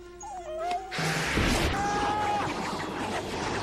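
A dog whimpers and yips in the movie The Mask, with thin, high rising and falling whines that sound first alone, then under a burst of loud scene noise and music.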